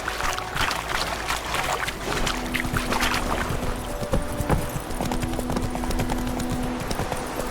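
Hooves of Roach, a horse in The Witcher 3 game, clip-clop at a steady walking pace, close and clear over a low ambient hum, with faint game voices in the background.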